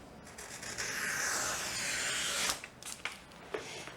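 Long scraping slice of a blade drawn through excess wallpaper, close and continuous for a couple of seconds, followed by a few short crisp rustles and taps as the cut strip is handled.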